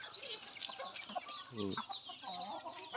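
Free-range Thai native chickens cluck and chatter nearby in a steady, busy stream, with overlapping bird calls throughout and no speech.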